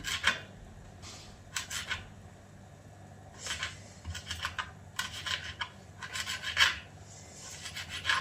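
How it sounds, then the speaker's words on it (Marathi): A knife slices fresh ginger into thin strips on a board while chole bhature is prepared. Several close, rasping cutting strokes come in separate bursts, with quiet pauses between them and no talk. "अद्रकचे पण आपण लच्छे कापून घेणार छोटे छोटे"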